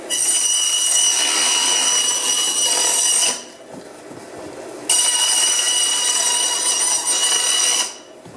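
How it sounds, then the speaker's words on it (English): A 14-inch bandsaw slices a cardboard circle in two loud, steady bursts of hissing cutting, each about three seconds long, separated by a short quieter pause. "I'll go over to the bandsaw and I'll cut this out"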